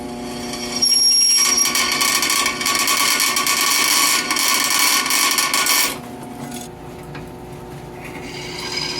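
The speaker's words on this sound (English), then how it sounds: "we'll just go ahead and give it a drill here" A drill bores holes in a steel knife guard for a spring-steel hidden-tang knife, a loud continuous whining grind that runs for about five seconds before stopping abruptly, leaving a faint hum behind.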